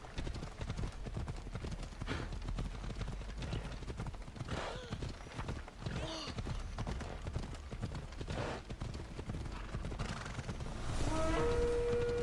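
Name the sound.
horse hooves galloping in video game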